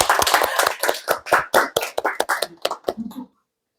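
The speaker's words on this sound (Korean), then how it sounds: "박수 한번 드립니다." A small group clapping at a study session on AI law, close and brisk rapid claps for about three seconds that thin out and stop abruptly.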